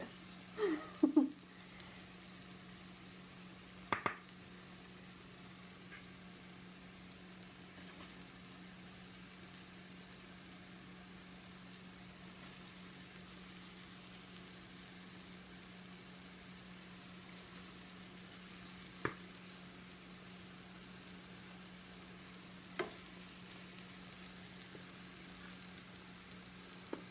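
Vegan breaded cheese pieces shallow-frying in oil give a steady, faint sizzle that runs throughout, broken by a few sharp clicks and taps as they are turned over.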